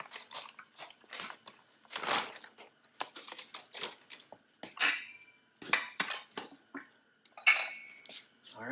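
Small metal screws and pins from a B&W Companion hitch kit rattle and clink in a quick, irregular series of light metallic taps and jingles, close and fairly quiet.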